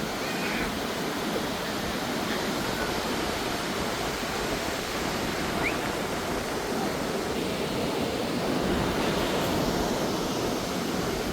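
Sea waves wash onto a white-sand beach at Boracay, making an even, continuous surf hiss and rumble that stays close and fairly loud with no talking.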